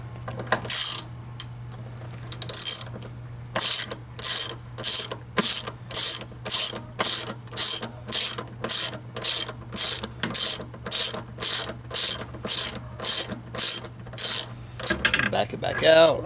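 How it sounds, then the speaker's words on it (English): A homemade thread-cleaning tap is driven into a bolt with a ratchet wrench, giving steady bursts of close, loud clicking strokes in an even rhythm, with brief handling noise at the end. "Screw it in there a little bit."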